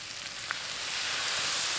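Elephant foot yam frying in a pan as spice paste goes in, giving a steady, even sizzle that holds throughout with no talking.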